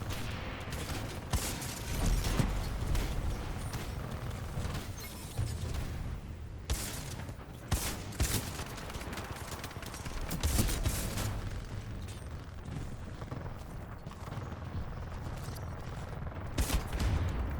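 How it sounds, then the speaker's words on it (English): Rapid bursts of gunfire from the Mozambique weapon in the Titanfall 2 video game crackle repeatedly over a continuous mix of game sounds and explosions, loud and close throughout. "This is a fun weapon to shoot, the Mozambique."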